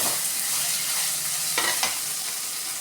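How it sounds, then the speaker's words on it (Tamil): Tomatoes sauté in a pan for chicken thokku kulambu, giving a steady hissing sizzle with a couple of spatula scrapes and stirs near the end. "தக்காளியை போட்டு நாங்கள் என்ன பண்ணுறோம், நல்லா வதக்குறோம்."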